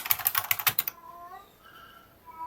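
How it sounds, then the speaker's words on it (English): After a burst of rapid computer-keyboard typing, a cat meows with a drawn-out, wavering call close by, then fades, with no talk in between. "You'll have to excuse the cat."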